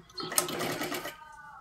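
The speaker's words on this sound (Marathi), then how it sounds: "आणि पूर्ण शिलाई मारून घ्यायची आहे." A sewing machine runs in one steady burst, stitching a seam on a 37-size three-piece princess-cut blouse. The close, whirring mechanical drone lasts about a second before cutting off into quiet.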